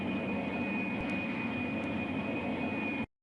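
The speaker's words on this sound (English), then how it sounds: "Please take your seat and fasten your seatbelt. The aircraft will be moving shortly." Airliner cabin in Pink Panther's Passport to Peril, a steady engine hum with a high whine as the aircraft prepares to move, cutting off abruptly at the end.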